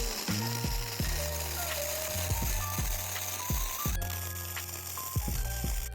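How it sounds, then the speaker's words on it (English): A hand ratchet clicks in quick repeated bursts while tightening a bolt on a custom steel Recaro seat bracket for a Toyota JZX100 Chaser, crisp metallic pawl ticks close to the microphone, starting and stopping several times. "as I crank down on this bolt, it wants to kick this up"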